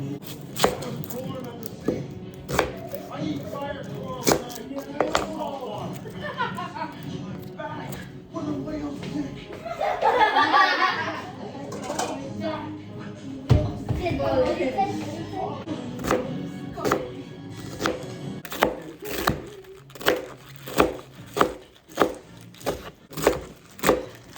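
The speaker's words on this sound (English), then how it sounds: "And you just chop your vegetables up" Vegetables are chopped with a knife on a wooden board, irregular thuds at first, then a steady run of sharp rhythmic chops toward the end, with a voice talking in the middle.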